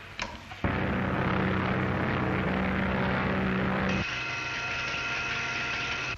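Steady propeller airplane engine drones loud and close throughout, with a brief lull at the start and a shift in pitch partway through, in a 1935 film about air hawks and a pilot.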